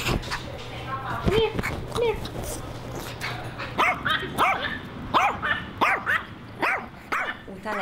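Several dogs at a dog boarding kennel barking and yipping in repeated bursts, some whimpering between them, close and fairly loud, with a steady rhythm of barks over background noise and people talking.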